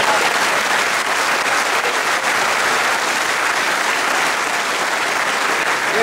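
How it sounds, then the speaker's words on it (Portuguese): A church congregation applauds together, a dense, steady wash of clapping that holds at full strength for the whole stretch with no voices rising above it. "Vamos aplaudi-lo."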